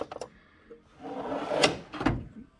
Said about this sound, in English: Second drawer is bigger,